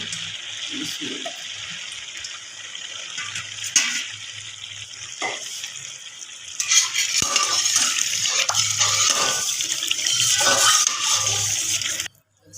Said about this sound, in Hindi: अब डालते हैं इसमें ऑयल